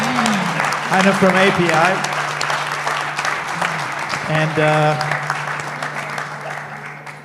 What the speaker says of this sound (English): you guys have already applauded